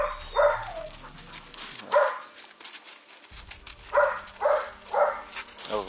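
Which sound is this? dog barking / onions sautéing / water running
dog barking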